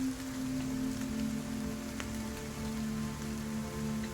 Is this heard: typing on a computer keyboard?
no